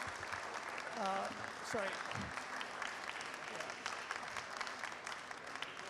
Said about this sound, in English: first give her a round of applause for the brilliant